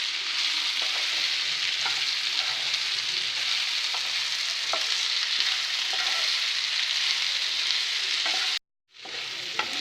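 Slices of elephant yam fry in hot oil over a low flame, a steady, loud, close sizzle that runs almost without a break, cutting out briefly near the end before resuming.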